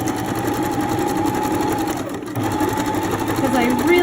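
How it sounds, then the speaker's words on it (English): Sewing machine running a zigzag stitch over elastic on a fitted crib sheet, a steady rapid mechanical chatter with a brief pause partway, while someone talks over it. "then I'm going to do a zigzag stitch. And I'm going to zigzag over it."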